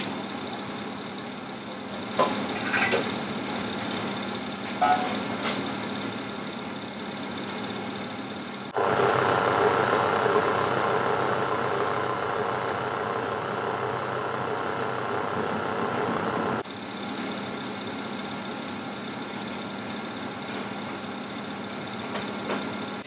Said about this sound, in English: it's going to knead for about 12 minutes on a low medium speed